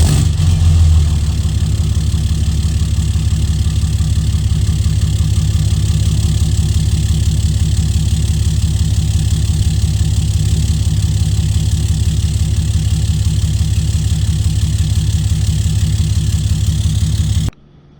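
A truck engine idles steadily and loudly, a deep rumbling drone with a constant low throb that cuts off at the end.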